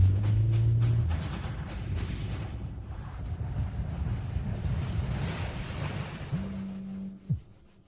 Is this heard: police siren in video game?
no